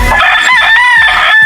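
Gamecock rooster on a game farm in Batangas, housed in a grass pen, giving one loud close crow with a rising and wavering call, heard alone without talk.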